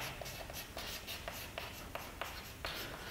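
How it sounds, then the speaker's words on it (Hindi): Chalk or marker strokes on a board scratch out a position vector during a physics lesson, in quick, uneven strokes with short pauses between them. "अब स्थिति की बात करते हैं। स्थिति सदिश ऐसा लिख देते हैं।"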